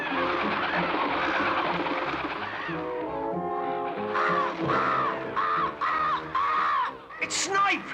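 Animated crows caw harshly and repeatedly in a cartoon scene, a dense, nasal chorus of overlapping calls that swells and fades and sits alongside a voice.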